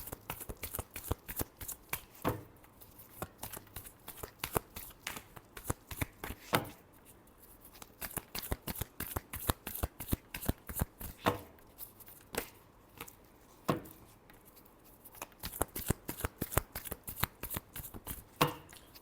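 A deck of tarot cards being shuffled by hand, a long run of crisp riffling and flicking bursts with short pauses between them, close and alone with no talking.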